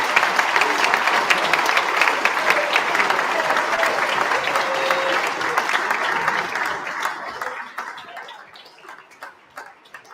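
An audience at a school-style prize giving claps and cheers loudly for an award winner, a dense burst of applause that holds for several seconds, then thins into scattered claps and fades out.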